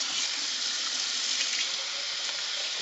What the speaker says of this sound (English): The temperature of the water is still cool to warm.